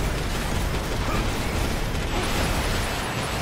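Constant dense roar of shooting and explosions in the mech action game Daemon X Machina, loud and unbroken with no clear gaps between blasts.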